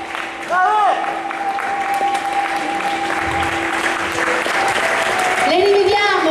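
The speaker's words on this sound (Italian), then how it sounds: "prendetevi un big applauso." Audience applause at a poetry slam, steady clapping from a crowd that fills the room, with a high sustained tone and brief cheering or voices running underneath.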